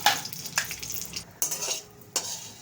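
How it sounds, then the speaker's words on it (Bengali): Oil sizzles softly as dried red chillies fry while a utensil scrapes and clinks against the pan in a few sharp strokes. "এই যে ভর্তার জন্য শুকনো লঙ্কা ভাজবো, রসুন ভাজবো"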